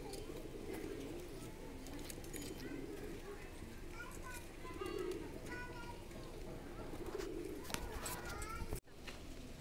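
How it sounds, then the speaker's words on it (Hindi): Soft pigeon coos rise and fall in low, throaty bursts amid outdoor ambience at the Malinithan holy site in Likabali, Arunachal Pradesh, with a person talking over them. "देखिए कबूतर भी इतना डर नहीं है, ये लोग आदमी के पास में रहता है।"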